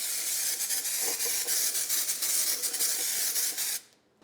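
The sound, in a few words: spraying scanning spray onto a Porsche 911 part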